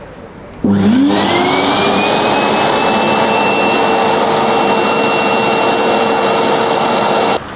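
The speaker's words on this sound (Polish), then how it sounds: "Sprawdzimy sobie podciśnienie w odkurzaczu piorącym Santoema Sabina SW15." A Santoemma SW15 washing vacuum cleaner runs on a long hose. The motor kicks on with a sharp upward sweep, then settles into a loud, unbroken jet-like roar and whine that stays close and constant.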